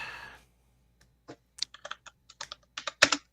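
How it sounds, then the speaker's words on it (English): Someone types on a computer keyboard nearby in short, irregular bursts of crisp clicks after a brief noise at the start. "I can hear him typing. He's at his computer."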